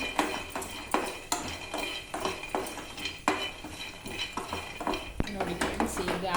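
Coconut pieces dry-roasting in a pan over a medium flame, heard as repeated clinks and scrapes of a spoon stirring against metal, with only a faint sizzle underneath and a sharper knock near the end.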